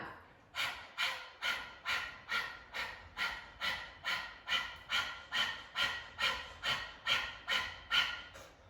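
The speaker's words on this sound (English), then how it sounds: "Stick your tongue out and start to breathe fast in and out through the mouth." Fast, rhythmic panting breaths in and out through the mouth with the tongue out, a breath-of-fire style exercise from a Kundalini yoga session; about sixteen even, sharp breaths close up and alone, with no talking.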